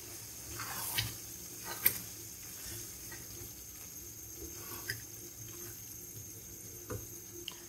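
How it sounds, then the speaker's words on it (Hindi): Water is poured into a pan of fried chickpeas, a faint, steady watery rush with a few soft clicks and taps scattered throughout, heard close by without speech. "भूनने के बाद हम इसमें पानी ऐड करेंगे जो हमने चने बॉईल करते वक्त निकाल लिया था।"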